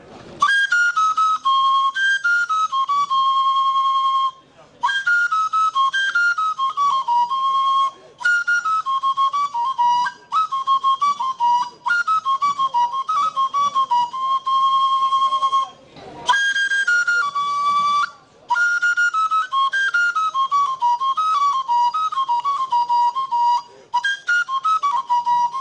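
Igbo ọja flute plays alone, loud and close, in repeated descending melodic phrases with brief pauses between them, bright breathy whistle-like tones carrying strong harmonics.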